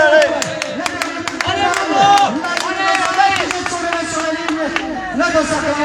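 Spectators applaud and cheer a rider at a cycling hill-climb time trial, a lively crowd of shouts and clapping close by, with a voice calling out over the noise.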